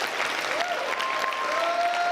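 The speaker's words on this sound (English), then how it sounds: "Oh, standing applause." An audience gives a standing ovation at a live summit event in Miami, with steady, dense clapping filling the room, close and loud throughout.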